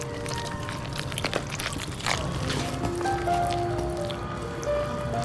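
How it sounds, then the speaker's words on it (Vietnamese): Warm water trickles slowly into flour while chopsticks stir it into a wet dough, a soft continuous pouring and squishing close by with faint clicks, and no talking. "Sau đó thì đổ từ từ vào bột và dùng đũa khuấy đều."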